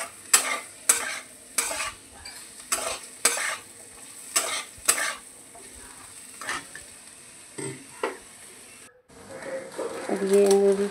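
Food stirred in a frying pan, with spatula strokes scraping in a steady rhythm of about two per second over a low sizzle, then a pause and a louder sizzle as noodles are cooked; a voice speaks briefly near the end.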